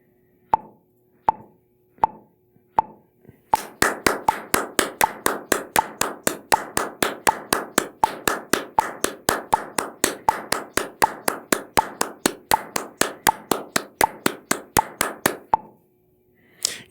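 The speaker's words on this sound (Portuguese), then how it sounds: "Agora eu vou tocar 3 palmas por tempo." One person clapping hands in a tempo and metronome lesson: a few slow, evenly spaced claps, then a long run of quick, even claps grouped three to each beat, close and crisp, with no talk.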